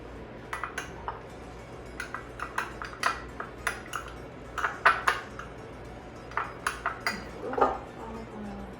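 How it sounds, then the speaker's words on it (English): A spoon stirs a breadcrumb mixture in a bowl, making a steady run of light clinks and scrapes against the bowl, close and fairly quiet, with no talking. "you want to stir this together with the breadcrumbs to make sure that they're moistened throughout"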